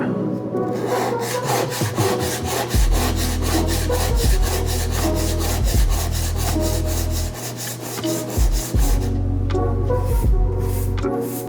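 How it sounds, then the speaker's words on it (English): Steady back-and-forth rasping of sandpaper over hardened car body filler, rhythmic cross-hatch strokes repeating close by with no talking. "Make sure that you sand in a cross-hatch pattern still, so that you can get this nice and flat."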